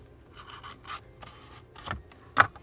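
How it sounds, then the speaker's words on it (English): An X-Acto knife slices and pulls loose journal pages with faint, close scraping strokes and soft paper rustles, ending in a sharper crisp tear. "So just taking my X-Acto knife and pulling out 2 pages"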